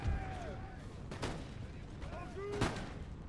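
Ranks of line infantry in an Empire: Total War battle fire rifle volleys, heard as a few faint, distant cracks spread apart under a quiet battle ambience, with a voice talking over them.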